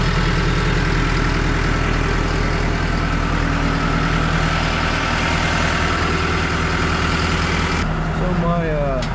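A heavy truck engine idles while warming up, a loud, steady low diesel rumble up close that holds throughout, with a brief shift near the end as a voice comes in.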